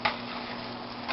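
Onion and garlic frying in a pan for Mexican rice give a steady, close, fine crackling sizzle throughout, with no talking.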